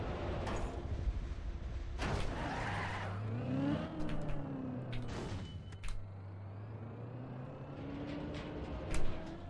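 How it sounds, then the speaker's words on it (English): Car tires screech in the racing game Trackmania. Long, wavering squeals rise and fall over a steady engine drone, with a few harsh scrapes and bumps in between. "You love how the tire screeching on Magnus sounds like Screams from Hell?"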